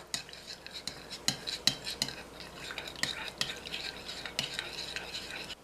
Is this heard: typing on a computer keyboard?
no